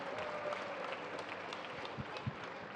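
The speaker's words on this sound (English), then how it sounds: "Thank you for your applause." Audience applause at a tennis tournament ceremony at the Maharashtra Open finals, steady clapping throughout with a couple of louder claps near the end, no voices over it.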